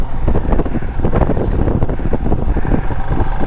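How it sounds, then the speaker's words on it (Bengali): Cool wind buffets the microphone while riding a motorcycle along a mountain road between Narkanda and Kinnaur on the way to Spiti, a steady loud low roar of rushing air and road noise with no voices. "এতক্ষণ রামপুরে গরম খাওয়ার পর আবার একটু ঠান্ডা ঠান্ডা হাওয়া পাচ্ছি"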